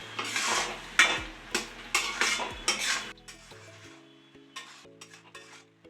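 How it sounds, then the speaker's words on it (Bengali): Carrot halwa is stirred in a pan: a spoon scrapes and clinks against the metal in a rhythmic series of strokes, loud and close at first and then lighter and sparser, over a quiet tonal background. "অনবরত কিন্তু নাড়াচাড়া করতে হবে,"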